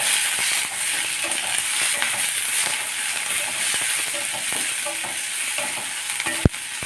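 Onions sizzle and fry steadily in a hot pan for sambar, with occasional stirring scrapes and a sharp clink near the end.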